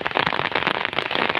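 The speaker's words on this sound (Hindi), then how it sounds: "बारिश तेज हो गई।" Heavy rain drums steadily and densely on a surface along a Himalayan mountain road to Yamunotri in Uttarkashi, loud and continuous with no talking.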